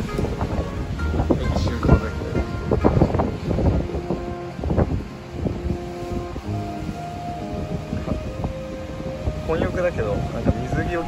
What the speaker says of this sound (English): The wind is very strong.